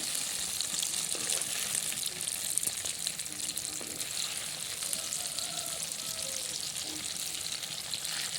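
Liver pieces fry in a pan, a dense close hiss of sizzling oil running steadily throughout with faint scraping, and a voice speaking quietly underneath.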